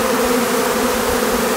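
A swarm of honeybees streams back into a WBC hive on a farm, their wingbeats forming a steady, dense buzz that stays close and even throughout, with no voices.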